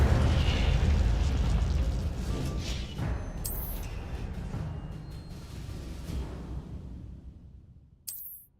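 An Incendio fire spell cast in Hogwarts Legacy erupts in a roaring, booming whoosh of flame that swells at first and slowly fades, with a sharp crack near the end.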